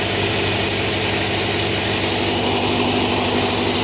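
Engine idling steadily at normal RPM, a loud, close, even rumble with a low-pitched hum that holds constant throughout with no talking.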